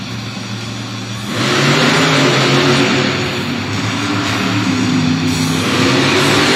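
Wildside, a monster truck, makes a loud, sustained roaring run in an indoor Monster Jam arena race, its engine surging up and holding steady alongside a broad, noisy wash of crowd and arena din, with no talk.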